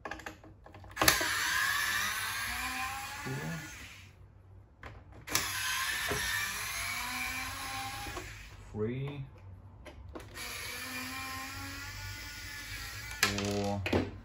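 Screws being undone with a tool on a Saeco PICO Baristo SM5460 coffee machine, giving soft clicking and ratcheting bursts in three separate stretches, close up, over a steady background hiss with someone talking.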